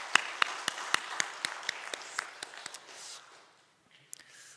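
A Sunday-service congregation at Hangang Church claps in a steady, evenly spaced rhythm for the Solomon choir. The claps are moderately distant and die away after about three seconds, leaving near quiet broken by a brief stir.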